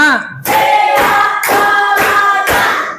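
Schoolchildren in a classroom clap in unison to a counted rhythm, producing five sharp, evenly spaced group claps right after a short spoken cue.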